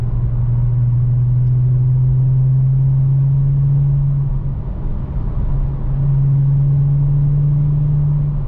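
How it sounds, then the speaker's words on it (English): A Volkswagen Jetta VR6 wagon's engine hums steadily at low revs in fourth gear, a smooth continuous drone with a slight dip midway before settling back into its even rumble. "This is fourth geared, kind of rolling into it."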